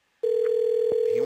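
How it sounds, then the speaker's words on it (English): A telephone tone on a call being put through to another line: a single steady, loud tone starting after a brief silence and holding unbroken to the end, with a faint voice briefly underneath. "It's ringing now."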